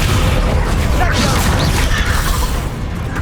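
The Descendo spell impact from the video game Hogwarts Legacy lands as a loud, heavy boom with a crashing, rumbling tail that fades slowly.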